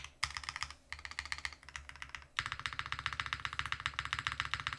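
DK1-TKL custom mechanical keyboard modifier keys being pressed in quick repeated bursts, the clacks loud and close, with a brief lull before a denser, steadier run of keystrokes.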